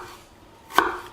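A knife cuts vegetables into rough chunks for an Italian lamb stew: a single crisp chop lands near the end of a quiet moment, close and clear with no voices.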